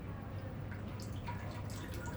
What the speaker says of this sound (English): the water dribbling right out the bottom of the pot like that.